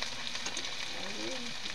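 Garlic, onion and tofu fry in a pan with a steady, close sizzle that runs throughout, and a few faint stirring scrapes surface in the middle.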